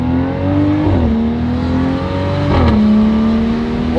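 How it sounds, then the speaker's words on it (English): BMW 435i with an xHP Stage 3 transmission tune accelerating in sport mode, engine note climbing steadily with two quick, smooth upshifts where the pitch drops, heard from inside the car, loud and continuous. "The xHP Trans Tune makes every single difference worth it."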